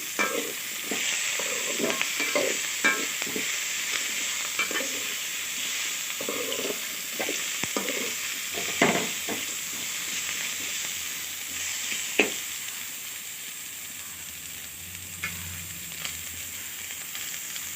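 Ingredients for carrot chutney sautéing in an oil-filled pan, with a constant bright sizzle and repeated scraping strokes of a spoon, close and clear with no voices.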